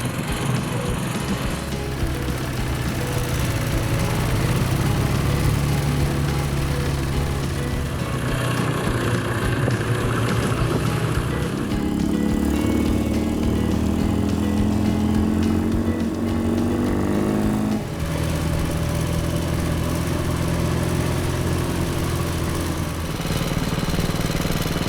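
A BSA motorcycle engine runs steadily and loud for the whole stretch, with a shifting pitch through the middle as it is revved, and no voices over it.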